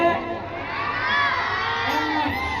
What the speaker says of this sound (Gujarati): જોરદાર તાળીઓના ગડગડાટથી આપણે જીતેશભાઈને વધાવીએ